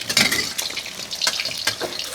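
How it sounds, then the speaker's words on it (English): An egg frying in hot vegetable oil in a wok, Thai style, giving a bright sizzling crackle with sharp spitting bursts and a few light scrapes, close and steady with no talk. "Fry egg in Thai style"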